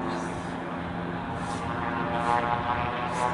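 A Piper PA-34-220T Seneca III twin-engine airplane approaches to land on runway 01, its propeller engines giving a steady, moderately loud drone that swells slightly toward the end, with no talk.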